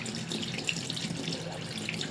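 Water runs steadily from a tap into a container being filled, a continuous splashing rush at close range with no voices.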